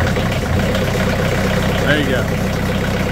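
A sawmill engine on a cold day sputters and runs roughly after cranking up, a loud, low, uneven idle throughout, with someone speaking briefly over it.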